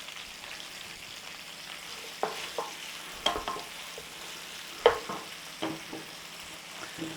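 Onions frying in a pan, a low, quiet sizzle under a series of louder scraping and clattering stirs that come in irregular bursts close by, with no voices.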